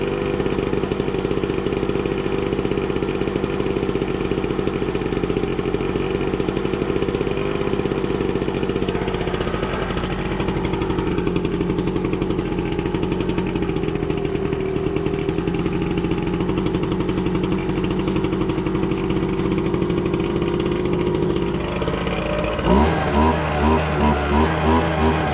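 Small two-stroke leaf blower engine idling and warming up, running slightly lean, a steady droning buzz held close for over twenty seconds before the pitch changes briefly near the end.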